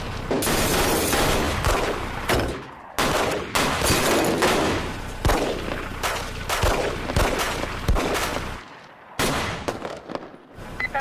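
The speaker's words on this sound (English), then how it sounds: "Shots fired. Shots in the building." Gunfire erupts inside a high school building, a loud, rapid series of sharp shots and bursts echoing through the halls for about eleven seconds, with no talking.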